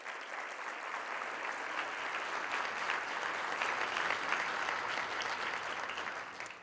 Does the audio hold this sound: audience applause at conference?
yes